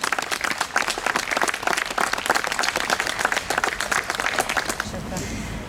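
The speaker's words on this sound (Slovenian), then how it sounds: "Seveda lahko to slavnostno predajo listine tudi pospremimo z aplavzom." Vigorous audience applause at a ceremonial handover of a charter at a memorial unveiling in Kranju, dense rapid clapping sustained for several seconds before tapering off abruptly near the end.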